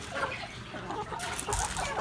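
Backyard native chickens being fed in the morning, soft low clucking in a faint, quiet yard with a brief brighter rustle or splash near the end.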